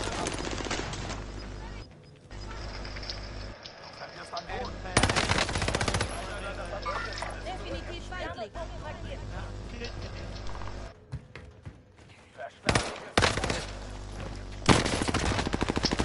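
Bursts of rapid automatic gunfire from the video game Warzone crackle in repeated volleys with brief gaps, mixed with game sound effects and an occasional voice underneath.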